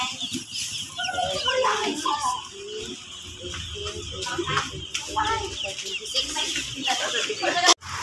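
A brood of 100 young chicks chirps and clucks continuously in a busy, close chorus, with someone talking over the birds throughout.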